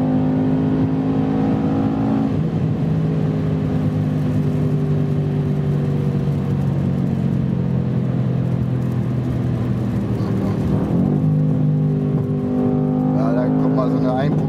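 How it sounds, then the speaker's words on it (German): Mercedes-AMG C 63 S Coupé engine running with steady, loud exhaust drone and shifting tones, its programmed backfire crackle not clearly distinct; a voice talks over it. "Programmierte Fehlzündung."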